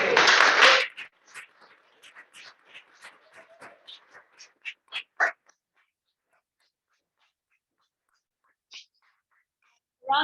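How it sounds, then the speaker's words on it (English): Brief burst of audience applause at a club meeting, loud and close at the start, then thinning into scattered claps, taps and small noises before quiet, with a short clatter near the end. "Round of applause for Michael."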